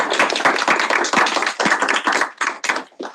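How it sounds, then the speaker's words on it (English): Clapping after a report at a Senate meeting, a small group of hands beating in a fast, uneven patter close to the microphone that thins into a few separate claps near the end. "Now we can clap."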